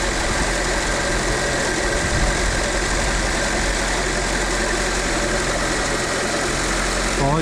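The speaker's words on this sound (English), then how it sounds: "Looks like the alternator's whirring and creating electricity." A Fiat Panda 100hp engine idles steadily nearby with its alternator whirring, a constant even drone that holds throughout, with a brief change in tone near the end.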